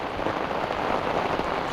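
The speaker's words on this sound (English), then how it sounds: "It's raining awful hard." Heavy rain drums hard and steadily on an umbrella overhead during a fishing trip, a dense, continuous close-up patter with no breaks.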